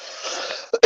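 A person coughs after smoking a blunt: a rough, breathy wheeze tails off, followed by two sharp, close coughs at the end.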